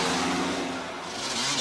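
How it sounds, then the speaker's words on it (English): Motorcycle engines roar outside at night, a close, continuous rumble that dips slightly in the middle and then swells again as the bikes rev. "Keung was startled awake by the roar of motorcycle engines outside"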